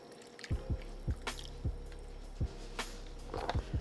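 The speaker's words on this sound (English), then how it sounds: "now in goes the beef broth" Beef broth is poured into a pot of short rib chili, a soft liquid pour with a series of low, glugging plops at irregular intervals, close and fairly quiet.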